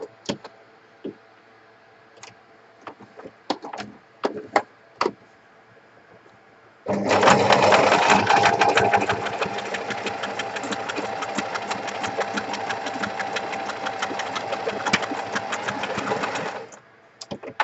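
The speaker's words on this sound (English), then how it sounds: "All you do is you put your material in the middle of your sewing foot." Sewing machine stitching an edge line on a pocket, first a few light clicks of handling the fabric, then about ten seconds of fast, continuous mechanical whirring that stops abruptly, with no talk.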